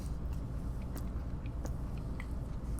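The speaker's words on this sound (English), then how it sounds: "I'm still chewing here" Someone chews a cookie close to the mic, producing soft, continuous mouth and crunch noises with a few sharper bites over low background rumble, with no talking.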